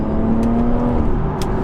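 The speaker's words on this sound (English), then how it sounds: "Let's do a little downshift." A BMW 340i engine revs steadily as the car downshifts, a continuous, close and fairly loud drone with a sustained hum and no talking over it.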